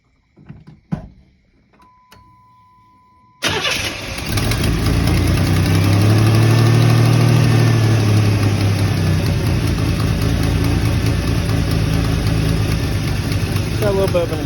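A few clicks and clunks, then a car engine with an exhaust leak cranks and catches, settling into a loud, steady idle that runs on without a break.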